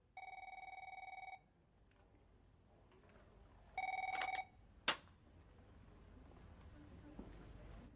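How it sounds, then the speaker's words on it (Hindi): Electronic telephone bells ring in a quiet room, one long burst followed by a shorter second burst, with a sharp knock after it and low background noise. "फोन लगातार बज रहे हैं"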